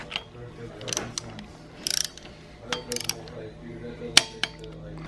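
Torque wrench ratcheting in short, sharp clicking bursts while tightening flywheel bolts in a star pattern on a budget hatchback drivetrain, with metallic clanks and pauses between bursts, fairly close.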